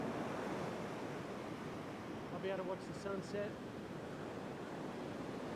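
Big waves and wild surf roll steadily onto a sandy beach during surf fishing, a broad constant wash with wind noise, while someone speaks briefly over it.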